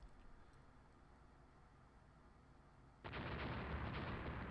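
A sudden roar of naval gunfire breaks out in the naval strategy game Rule the Waves during a night battle involving England's fleet, a dense, rumbling barrage that starts abruptly after a quiet lull and keeps going loudly to the end.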